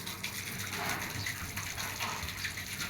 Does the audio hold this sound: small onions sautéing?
no